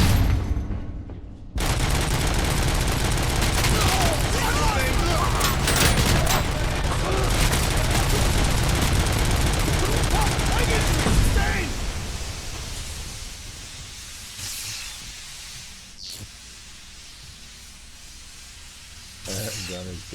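Enemy gunfire rattles in a dense, roaring burst in the RoboCop video game, sustained for about ten seconds before easing into quieter scattered shots and game noise.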